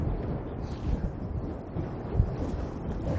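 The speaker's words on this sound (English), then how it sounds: "Shit, yeah, this is hella windy." Strong wind buffeting an outdoor microphone during a DJI Air 2S drone flight, a loud, continuous low rumble with gusty swells, no talk.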